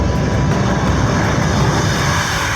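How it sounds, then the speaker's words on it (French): Mirage 2000 fighter jet at an air base, a loud steady roar of broadband jet noise held continuously for nearly three seconds with no voices over it. "Le Mirage 2000, tel que vous le voyez ici, un avion d'ancienne génération par rapport au Rafale."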